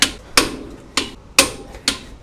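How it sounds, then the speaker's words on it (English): Five sharp, evenly spaced clicks ring out as a SUNEX torque wrench set to 362 snaps on garbage truck wheel bolts, each crisp and close with a short metallic decay. "We've got our SUNEX torque wrench to 362."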